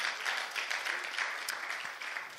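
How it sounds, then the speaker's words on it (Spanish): A church congregation claps during a Spanish-language service, a soft, fairly steady patter of many hands that sounds somewhat distant and continues for the whole short stretch without speech. "Démosle un fuerte aplauso al Señor por su poder"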